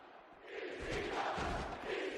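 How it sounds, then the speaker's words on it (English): Crowd noise in the wrestling video game WWE '13, a low, muffled roar of a distant arena audience that rises and stays steady over a couple of seconds, with no voices close by. "Why can I hear the crowd?"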